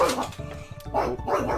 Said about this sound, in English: Apologies if you hear Daruk barking